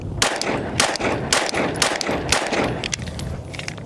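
Pistol shots from a PSA Sabre Dagger firing Hollow Sun 507 comp ammunition at a range, several sharp loud reports spaced roughly half a second apart, with other distant shots and clatter around them.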